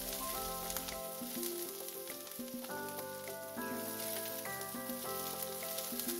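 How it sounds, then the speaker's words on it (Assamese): Onions frying in hot oil in a pan with a steady close sizzle, stirred now and then. Soft music plays throughout. "পিঁয়াজখিনি অকণমান সময় লৰাই লৈছোঁ নিসিজালৈকে"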